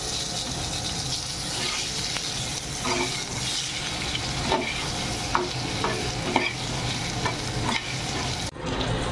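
Potato pieces fry in hot oil with Bengali five-spice (panch phoron), a steady dense sizzle with occasional stirring scrapes and clicks, close and continuous, ending on a brief knock.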